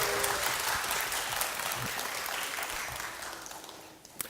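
Audience at a children's composers' recital in a concert hall applauds steadily for about four seconds, a dense wash of clapping that thins and fades near the end.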